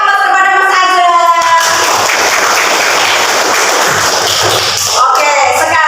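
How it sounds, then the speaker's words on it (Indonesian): An audience claps for Mas Azhar in a classroom, a dense burst of applause building after a moment of voices and fading out after several seconds. "Beri aplaus kepada Mas Azhar"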